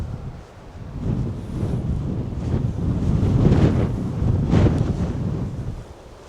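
Strong wind buffets the microphone on a walk along Orre Beach, with waves surging in the background; a steady roar swelling and easing over several seconds, no talking.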